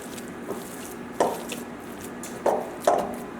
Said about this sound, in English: take some salt, pepper, mix that in